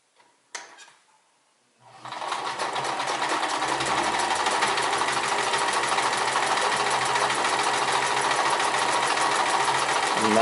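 A Sears Kenmore 158 series sewing machine stitches a buttonhole in marine vinyl, starting after a couple of brief clicks and then running in a loud, continuous rapid chatter close up.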